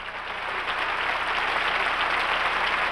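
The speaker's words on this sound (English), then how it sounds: "The Lincoln Center audience responded with a cheering 10-minute standing ovation." A Lincoln Center audience gives a cheering standing ovation after a concert, steady dense clapping that fills the hall without a break.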